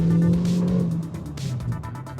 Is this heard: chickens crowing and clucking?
no